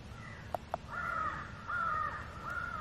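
Loud, repeated crow caws blare from an electronic caller set up for crow hunting with decoys, a series of harsh, drawn-out calls in close succession after two sharp clicks, with no talking.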